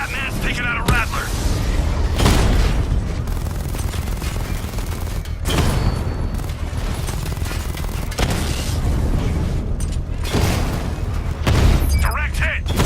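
Heavy gunfire and booming explosions as Batman destroys a Rattler drone tank in Batman: Arkham Knight, a dense, loud barrage of blasts with repeated bursts and impacts throughout, mixed with game dialogue.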